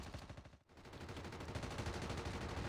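A BY-15 fires in rapid, continuous bursts during a zombies video game. The shots come as a steady rattling stream of gunfire at low overall volume, with only a brief gap early on.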